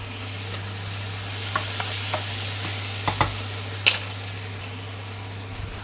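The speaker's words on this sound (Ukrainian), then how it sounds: "Отак, порізав і обсмажую." Sliced mushrooms fry in a pan for a homemade pizza topping, giving a steady, even sizzle with a few sharp clicks and scrapes of stirring, with no talking.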